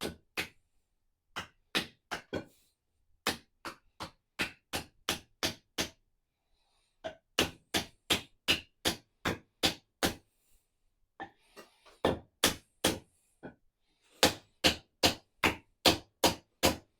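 A wooden wedge is hammered into the handle of a 4½ lb Arvika Tasmanian pattern axe during a full rebuild: sharp, close, solid hammer blows come in rapid rhythmic runs separated by short pauses, with no voices.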